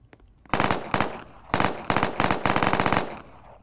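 Rapid SMG gunfire in a Roblox zombie shooter, fired in several short bursts of quick repeated shots, loud and close, with brief pauses between volleys and no talking.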